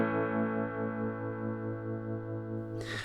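A sustained guitar chord rings through a MayFly Terrain Deluxe pedal set to its harmonic side, steady and shimmering with dense overtones, then cut off abruptly near the end.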